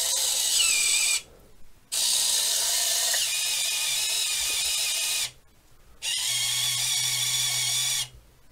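Small electric motor and slip clutch of an RC Mercedes Actros tipping trailer running in three loud whirring, ratcheting bursts of a few seconds each, separated by short pauses.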